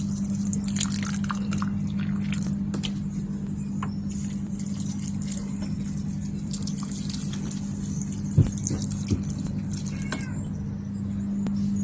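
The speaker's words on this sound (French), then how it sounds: "on va arroser un peu les plantes" Water drips and patters while someone waters plants outdoors, in soft irregular splashes over a steady low hum, with a couple of sharper knocks partway through.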